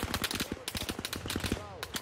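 Rapid automatic gunfire in the video game Arma Reforger, a dense run of sharp repeated shots with a faint voice briefly underneath.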